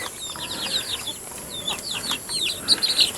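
A backyard chicken flock clucks and peeps in repeated short, high calls scattered across the stretch, close by over a steady low background hiss.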